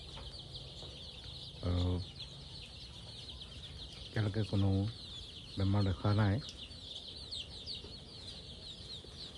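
A flock of about 300 young local chickens peeps and chirps in a constant high, busy chatter on a poultry farm, with someone talking intermittently over them.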